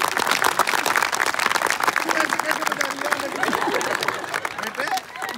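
An audience claps at a comedy show, a dense, steady patter of many hands close by with crowd noise mixed in, continuing for several seconds under an excited voice.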